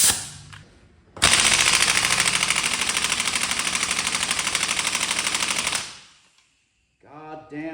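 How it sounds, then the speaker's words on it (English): A large impact gun hammers on an axle nut, a loud sustained rattling burst of about four and a half seconds that winds down at the end, followed by brief voices. "This gun, I bought it literally to only do one job, which is to get axle nuts off."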